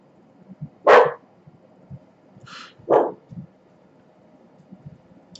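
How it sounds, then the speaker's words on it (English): A dog in the background lets out two sharp barks about two seconds apart, with a fainter yip between them, over a quiet indoor room. "Sorry about the dog."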